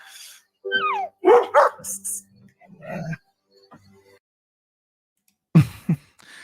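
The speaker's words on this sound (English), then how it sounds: "introduces the dog to the other dogs" Dogs bark and yip in a TV drama scene where a new dog meets the pack, short sharp barks in bursts amid brief spoken lines, with a pause before a final pair of barks.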